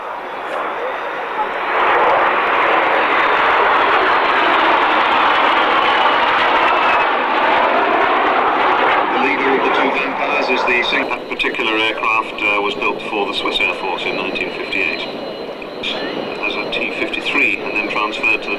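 Hawker Hunter jet aircraft displaying at the Fairford airshow, a loud sustained roar of jet engines passing overhead, with an announcer's voice over the public address and crowd noise beneath.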